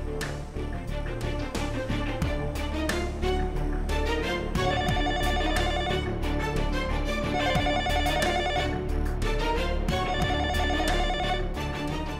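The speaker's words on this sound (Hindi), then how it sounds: "कोई फोन क्यों नहीं उठा रहा है?" A telephone rings on and on with no one answering, repeated ringing tones over a dense, steady background of music in a TV drama scene.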